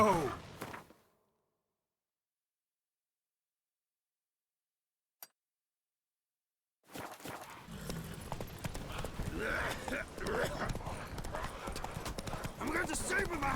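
Horse hooves galloping in The Witcher 3: Blood and Wine, rhythmic clip-clop starting briefly, then silence, then resuming loud and continuous with game sounds and a voice.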